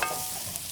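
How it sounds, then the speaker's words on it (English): Carrots and garlic stir-frying for chicken lo mein, a brief continuous sizzle with light stirring scrape, close and steady with no talk. "throw those carrots in first because those take the longest"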